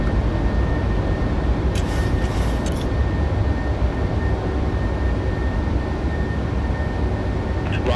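A Ryanair airliner takes off from Stansted in Microsoft Flight Simulator 2020, its jet engines holding a loud, steady, broadband roar for the whole stretch, with a few brief higher clicks near the start.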